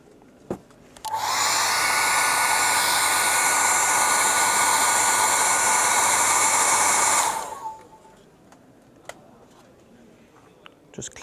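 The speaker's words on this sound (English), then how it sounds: "give it a blast with a hairdryer" A hair dryer blasts at full power for about six seconds, a loud steady rushing hiss close by, then cuts off sharply, with faint clicks and handling sounds in the quiet after, as paint work dries during a model-painting demonstration.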